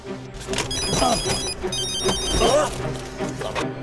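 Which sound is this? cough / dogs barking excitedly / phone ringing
phone ringing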